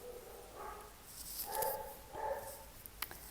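A dog barks a few times in the distance, short separate yips over quiet background hiss.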